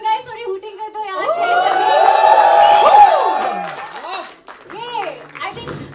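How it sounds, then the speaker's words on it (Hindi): Audience at a film trailer launch for AUHAAM hooting, whooping and cheering, a swelling wave of excited voices with rising whoops that peaks mid-clip, then fades into scattered shouts. "Come on guys, थोड़ी हूटिंग कर दो यार"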